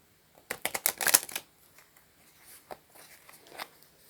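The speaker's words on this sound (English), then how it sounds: "shuffling is going really well right now." Tarot cards being shuffled in a quick burst of crisp riffling flutters up close, then a few lighter scattered taps and card slides trail off quietly.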